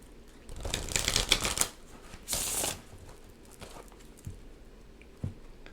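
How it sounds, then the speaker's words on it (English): Quick riffle of cards shuffled twice close up, followed by a few soft taps as the deck settles, no voices. "One more shuffle."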